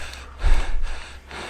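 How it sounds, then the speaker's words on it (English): Heavy, labored breathing from a mountain biker climbing a very steep hill in the French Alps: a few loud, close gasping breaths in and out, alone without talk. "Listen to the panting. It must be a very steep hill."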